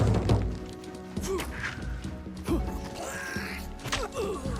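Monsters smash a player's house in RuneScape: Dragonwilds, with repeated heavy thuds and whacks, creaks and groaning creature sounds over a busy game backdrop, moderately loud and close.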